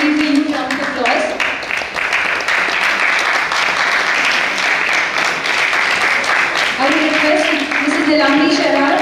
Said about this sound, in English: I think he received a huge round of applause